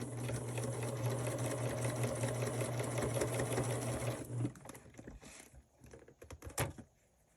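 A sewing machine stitches a diagonal seam across a quilt block, running steadily with a loud rapid mechanical whir for about four seconds, then stopping, followed by scattered handling clicks and rustles.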